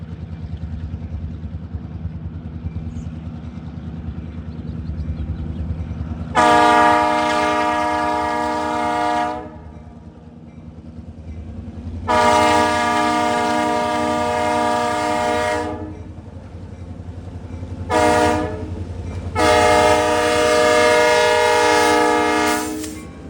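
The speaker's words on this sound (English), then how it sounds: "Chasing this train was quite easy" A freight train in eastern Pennsylvania sounds its horn in a crossing pattern, two long blasts, a short one and a final long one, loud and close above the steady rumble of passing railcars.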